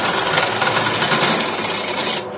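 A continuous harsh grinding of a drill press biting into a small piece of metal, steady and loud up close, with scraping texture and no speech.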